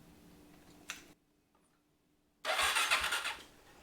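A motorcycle engine is cranked and starts after a short click and a pause of silence, then runs loudly and close for the last second and a half.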